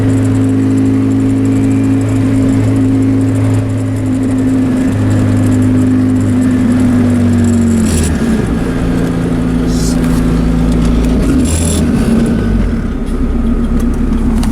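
A turbocharged Honda car engine tuned with a Hondata S300 drones loudly under acceleration with raised boost, a steady hum that shifts pitch midway as the gear changes, with road noise throughout.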